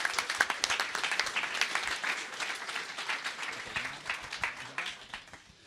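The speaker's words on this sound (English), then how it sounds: "maybe you could give us a round of applause for Jose" An audience at the iNOG::6 network operators' meetup at Facebook applauds the speaker Jose: dense, steady clapping from a mid-sized crowd, fairly close, holding evenly before tapering off at the end.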